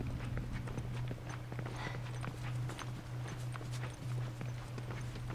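A horse's hooves clip-clop steadily as it runs in the game Left Behind, a continuous mid-level patter over a constant low hum and game ambience.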